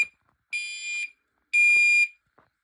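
A school fire alarm gives two loud, harsh electronic blasts separated by a short silence, with faint small noises in between.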